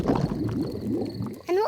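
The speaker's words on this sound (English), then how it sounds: "My tummy rumbling is one of the best sounds of nature." A cartoon character's stomach rumbling outdoors at a campsite, a low, burbling, gurgling growl that wobbles in pitch for over a second, followed by a brief higher vocal sound.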